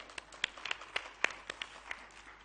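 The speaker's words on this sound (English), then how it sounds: "A big round of applause." Crowd applause at a World Economic Forum plenary session, heard as soft, scattered claps with a few sharper hand strikes, fairly distant and thin, with no voices over it.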